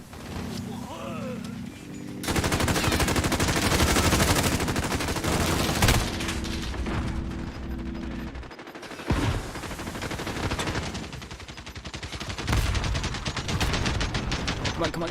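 Dense, sustained automatic gunfire in a shooter video game, loud and continuous for most of the stretch with brief pauses and sharp single shots. A voice talks underneath at times.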